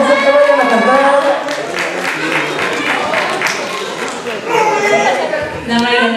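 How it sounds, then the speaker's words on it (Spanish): Clapping from an audience at a Japanese-language karaoke event rises steadily amid crowd chatter, with voices speaking over it for most of the stretch. "Fuerte el aplauso."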